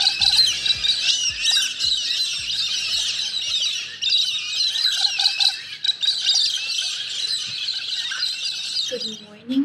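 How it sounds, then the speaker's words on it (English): A flock of wild pink birds in Australia squawks and screeches in a dense, overlapping chorus of harsh calls close by, continuing almost without break and briefly joined by a human voice near the end. "They're pink color birds. They're wild in Australia."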